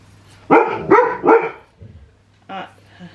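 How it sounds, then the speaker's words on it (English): Dogs bark outside, three loud barks in quick succession, then a quieter pause and one more bark, over a low steady hum. "There's something going on outside, the dogs are barking."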